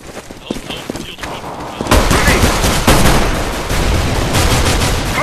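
Video game gunfire: a few scattered shots at first, then dense sustained automatic fire, loud and continuous, with faint voices underneath.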